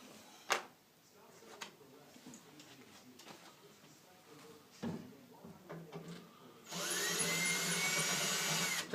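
A power drill whirs loudly and steadily near the end while working screws on a Rush'N Attack arcade cabinet, after scattered clicks, knocks and tool handling; someone talks at times.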